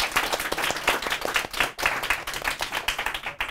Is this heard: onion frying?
no